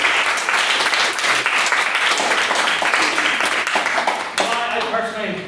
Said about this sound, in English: Quick round of applause for all of them.